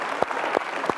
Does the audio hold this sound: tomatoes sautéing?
no